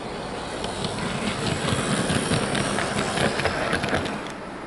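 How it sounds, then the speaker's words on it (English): A Hornby Class 87 model train locomotive, 87010 'King Arthur' in Intercity Swallow livery, runs smoothly along track with a steady close whir and fine rail clatter, no talking, fading slightly at the end. "Now we come to the running performance of the Class 87, and as you can see, she runs absolutely smoothly."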